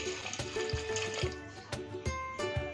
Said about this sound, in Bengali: দিচ্ছি 1 কাপের মতন জল